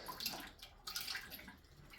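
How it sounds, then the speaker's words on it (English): Water drains out of a residential well pressure tank that has a failed bladder, a quiet, steady trickling and gurgling flow that continues throughout with no talk. "We're just going to let this thing drain out."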